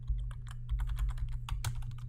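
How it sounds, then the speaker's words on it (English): Quick bursts of typing on a computer keyboard, clicky keystrokes in an uneven rhythm, close and clear with no talk. "So we could type in here that this is"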